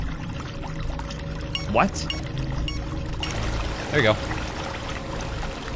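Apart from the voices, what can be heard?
water pouring from a pipe in a video game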